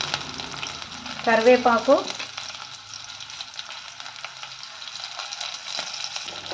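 Green chillies fry in hot oil for Telugu pachi pulusu, a steady close sizzle throughout, with a brief spoken word over it early on.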